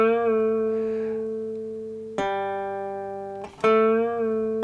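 Blues string bend on a three-string guitar: a sustained plucked note rings close and clear, with two fresh picks a couple of seconds apart, each note sliding slightly in pitch as the string is pushed.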